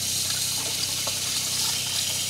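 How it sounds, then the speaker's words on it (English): Hot water runs steadily from a tap inside a camper van, a continuous close hiss of flowing water filling the sink for face washing, with no talking. "I should have just about 5 gallons of hot water to wash my face with."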